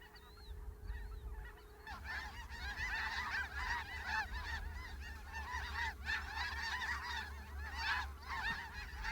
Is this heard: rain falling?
no